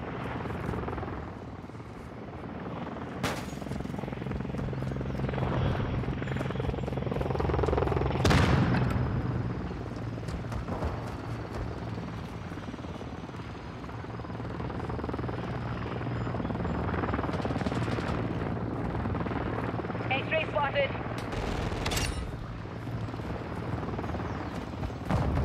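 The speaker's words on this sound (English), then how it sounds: "Overwatch helo ready for tasking." An attack helicopter flies air support in the Call of Duty: Modern Warfare II mission El Asilo, its rotor thumping steadily throughout, with bursts of gunfire and sharp impacts breaking through.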